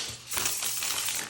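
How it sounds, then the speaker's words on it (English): Tarot cards being shuffled by hand, a short papery riffle and flutter lasting about a second, close and fairly quiet with no talking. "Let me just give these a bit of a shuffle here."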